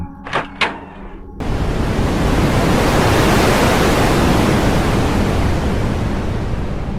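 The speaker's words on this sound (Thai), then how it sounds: "พายุก็พัดโถมเข้ามาข้างในจนหิมะซัดเข้าที่ใบหน้าของผมเต็มๆ" A back door clicks open twice, then snowstorm wind rushes in as a loud, steady roar that fills the space without a break.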